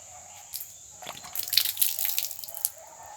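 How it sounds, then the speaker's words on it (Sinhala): Water from a bottle splashes and trickles down in a short, close burst of drips and gurgles, quiet and alone for about two seconds. "හරි බෝතලේ වතුර ටික හැලුවානේ"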